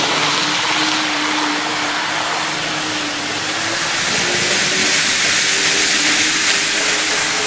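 A Kato model train cab car fitted with a DCC decoder runs along the track, giving a continuous whirring hiss with a thin motor whine that rises and falls slightly in pitch. No voices are heard.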